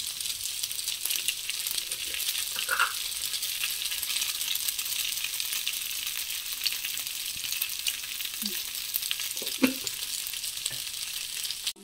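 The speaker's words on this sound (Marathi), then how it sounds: "आपल्याला हे छान असं मिक्स करून घ्यायचं आहे। आपल्याला गॅस मोठाच ठेवायचा आहे।" Veg noodles stir-fried in a pan over a high gas flame give a steady, close sizzle and hiss throughout, with a few scattered scrapes and light clinks from stirring.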